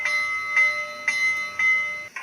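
Repeated ringing strokes of a bell sound from an Athearn Genesis Union Pacific FEF-3 4-8-4 #844 model steam locomotive, four clear evenly spaced dings with a steady electronic hum underneath.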